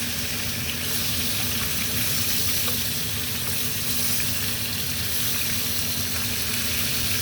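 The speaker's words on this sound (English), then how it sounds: "So as this is getting all nice and seared" Beef short ribs searing in a hot pan make a steady, loud, even sizzle with a faint hum beneath and a few small pops. No one speaks.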